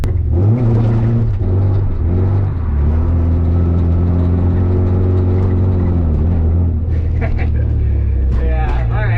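Nissan 240SX engine revving hard through repeated clutch kicks on a wet road, a loud close droning roar that rises and falls in pitch, then sputters briefly near the end.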